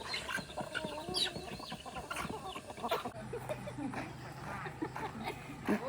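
Ducks and chickens kept at a home farm, clucking in scattered short calls at low volume, with faint voices in the background.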